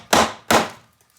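Two sharp hammer smacks strike a bent metal piece of a scrapped AC compressor, spaced about a third of a second apart, each ringing briefly before fading into quiet.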